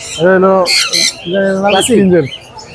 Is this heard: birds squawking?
yes